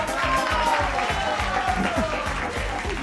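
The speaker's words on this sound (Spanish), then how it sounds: "aplauso para María Zamora." A studio audience claps steadily in sustained applause, with a voice talking over it.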